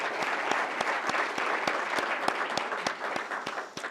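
Steady applause from a crowd, dense clapping that holds evenly throughout with sharp individual claps standing out.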